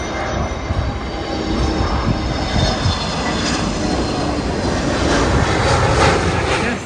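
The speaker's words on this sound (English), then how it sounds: "we've just seen some planes landing right behind us" Planes landing close behind a Premier Inn hotel in London fill the air with a loud, steady jet roar that holds throughout, with no voices over it.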